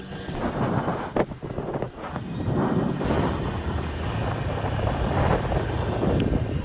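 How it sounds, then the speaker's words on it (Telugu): Strong wind buffets the microphone outdoors near a village roadside restaurant, a continuous loud low roar with gusty swells throughout and no talk. "ఫుల్ గాలి వస్తుంది."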